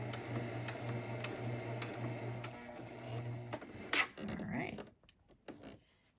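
A sewing machine stitches fabric for a face mask, a fast mechanical whir with a steady rhythmic hum that pauses briefly and resumes, then stops before some rustling and handling noises near the end.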